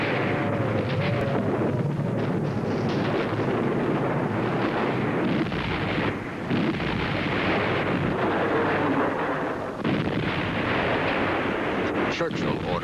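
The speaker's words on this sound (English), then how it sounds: "a German squadron of bombers accidentally drops its bomb loads on civilian targets in London" Bombs dropped by German bombers burst over civilian targets in London during a wartime air raid, a continuous roar of explosions and rumbling blasts filling the scene without a break.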